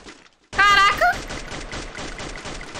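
Burst of rapid gunfire from an N94 weapon in a video game, a loud close volley of shots in quick succession that starts abruptly after a brief quiet moment and then trails off into a softer rattle.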